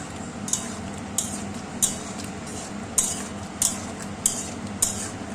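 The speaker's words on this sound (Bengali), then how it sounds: "পোস্তটা দিয়ে আমি এইভাবেই নেড়ে চেড়ে নেব" Ridge gourd with poppy seed paste is stirred in a pan over a low flame, with regular sharp scrapes of a utensil about once a second over a soft, continuous sizzle.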